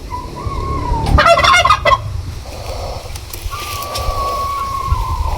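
A turkey lets out one loud, rattling gobble close by near the start. Quieter bird calls and steady background noise follow.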